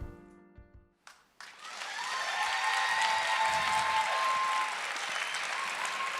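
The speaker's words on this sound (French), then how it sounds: "vous pouvez les applaudir très très fort" An audience at an awards ceremony breaks into loud, sustained applause that swells after a brief pause and continues steadily to the end.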